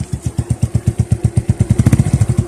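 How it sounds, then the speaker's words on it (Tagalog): Suzuki Smash 115 motorcycle engine running, a fast, even, loud putter of regular pulses close by, with no other sound. "pag piniga natin ng todo, yung silinyador, ay namatay ang kanyang makina"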